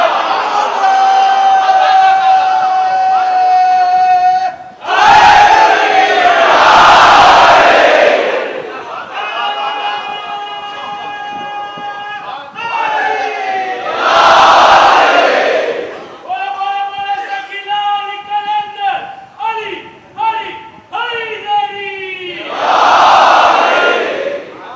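At a majlis gathering, a crowd roars the Nara-e-Haidari slogan in three loud collective bursts, each rising after a man's amplified, drawn-out call.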